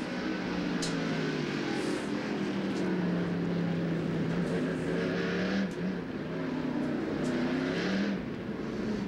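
Onboard a 1997 NASCAR Winston Cup stock car after a spin on a slick track: a steady, loud engine drone with a low, wavering pitch, lightly throttled, under broad rushing noise and no talk.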